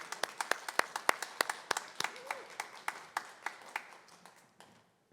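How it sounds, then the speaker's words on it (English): Sparse, distinct hand claps from a small audience greet the retiring Mr. Finnegan, each clap sharp and separate, thinning out and fading over about five seconds. "give him a round of applause"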